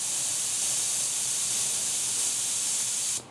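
A steady, loud airy hiss of an airbrush spraying, powered by a compressor, runs continuously, then cuts off abruptly at the end.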